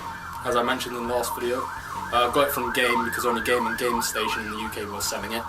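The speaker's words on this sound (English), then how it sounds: "Sorry for that police siren if you can hear it." A police siren wails outside with a steady rising and falling sweep, continuous and fairly loud throughout, while someone talks indoors over it.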